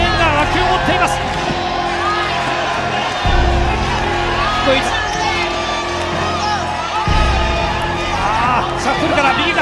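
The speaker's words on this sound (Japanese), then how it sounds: "重岡への声援が沸き起こっています" A large crowd at a professional boxing match cheers and shouts in a loud, sustained roar, with whoops rising over the din and heavy thumps at intervals.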